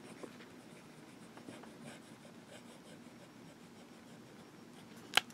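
A fountain pen with a fine nib, inked in Montblanc Midnight Blue, scratches softly across paper in quiet, steady strokes, ending in a sharp tap near the close.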